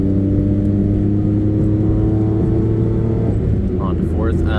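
A 1995 Honda Today kei car's engine drones steadily from inside the cabin while driving, a loud continuous hum with a slight rise in pitch late on.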